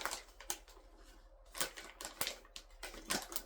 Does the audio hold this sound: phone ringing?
no